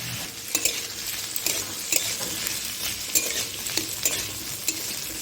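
Spice paste for a vegetarian olkopi (kohlrabi) curry fries in a pan with a bright hiss, while a spoon stirs and scrapes in uneven strokes and clinks lightly now and then, close by and without talk.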